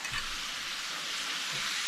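Elk sausage frying in bacon grease gives a steady, close hiss and crackle of sizzling fat, continuous and fairly loud for two seconds with no talking.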